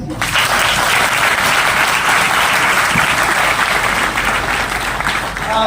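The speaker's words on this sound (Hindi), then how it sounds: "एक बार ताली बजा दीजिए।" Seminar audience clapping together, a loud, dense and continuous roar of many hands that holds evenly throughout without a break, close and filling the room.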